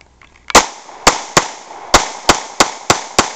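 An FMK 9mm pistol fired eight times in quick succession, sharp loud cracks spaced unevenly about a third of a second apart, each with a short ringing tail, with no voices over them.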